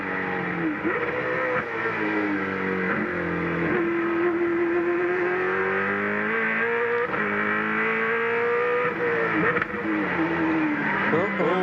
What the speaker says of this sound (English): let's have a listen on board with Scaife.